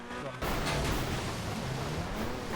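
Gunfire in the game GTA, a loud sustained burst of shots beginning abruptly after a brief quieter moment and running steadily to the end, with voices talking over it.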